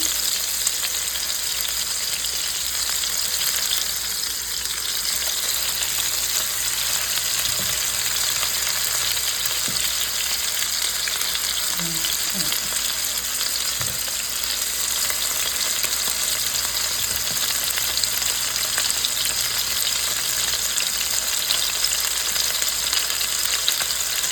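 Salisbury steak patties, about eight of them, frying steadily in a pan with a constant broad sizzle that runs unbroken for the whole stretch. A few faint clicks and knocks come through, and nobody speaks.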